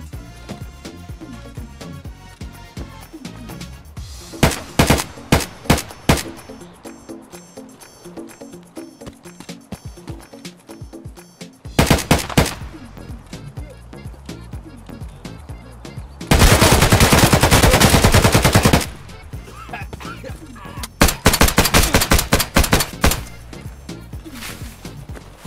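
M4 rifle gunfire in Escape from Tarkov: several loud, sharp automatic bursts and single shots spaced across the stretch, including one long sustained burst, over low game ambience.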